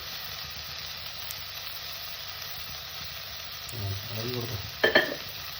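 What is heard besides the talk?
stirring agathi flower thoran in the pan after adding salt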